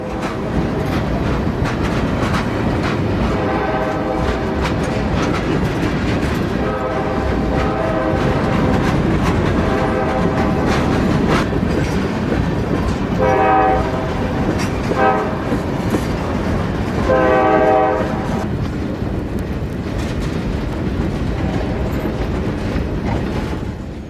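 A freight train pulled by five diesel locomotives rolls through city streets lined with old homes, its engines rumbling steadily while the horn blasts several times in repeated bursts, loud and close.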